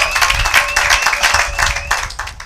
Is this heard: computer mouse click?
no